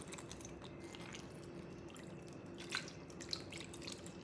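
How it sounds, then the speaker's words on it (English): Spicy V8 juice poured over cabbage rolls in a baking dish, a soft steady liquid stream with a couple of small splashy drips, quiet and close with no talking. "If you like a little heat, do the spicy V8. And I'm just gonna pour till we almost cover them."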